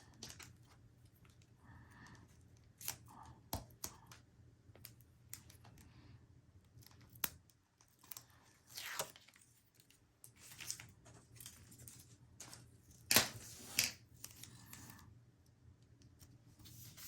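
Scissors snip through paper while assembling a boho baby paper craft, sparse sharp clicks and cuts scattered irregularly over quiet room tone, close but faint.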